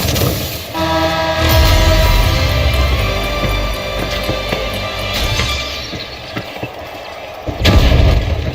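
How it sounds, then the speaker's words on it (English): A goo grenade is thrown and explodes during a video game, set against loud, continuous rumbling game noise, with a sharp burst of blast near the end. "Throwing goo grenade!"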